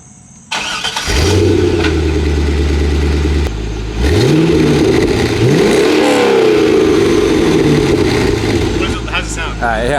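A car engine cranks and catches, then revs up and down several times in loud bursts, with voices talking faintly underneath.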